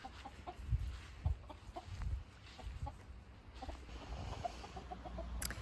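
A hen and a rooster cluck repeatedly in short, soft bursts at a moderate distance, with low outdoor rustling and background noise between the calls.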